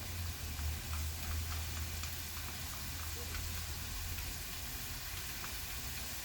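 Pork and minced garlic fry in a pan for Hong Kong pork with sweet cream sauce, a soft even sizzle with a faint low hum, quiet and steady throughout.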